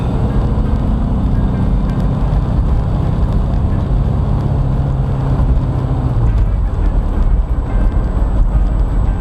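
A 1972 VW Bus engine runs with a bad bog, a steady loud low rumble throughout with rough, uneven idle character and no pauses.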